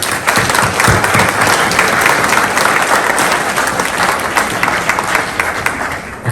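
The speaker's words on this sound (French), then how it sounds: "vous pouvez vous applaudir" A crowd at a mayor's New Year ceremony breaks into loud, dense applause that holds steady throughout, with faint voices mixed into the clapping.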